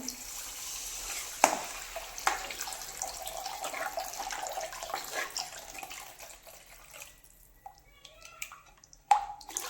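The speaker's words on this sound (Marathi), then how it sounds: "पाणी घालून घेऊया" Water runs and splashes steadily into a cooking pan for egg curry for several seconds, then trickles off into scattered drips and clinks.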